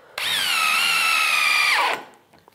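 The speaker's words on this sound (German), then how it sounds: "Wir schrauben jetzt hier eine große und eine kleine Schraube ins Holz. Zuallererst mit dem Festool-Akku-Bohrschrauber." A Festool cordless drill driver drives a screw into wood in one loud, steady whirring run of about a second and a half. It winds down in pitch at the end and stops, with no one speaking.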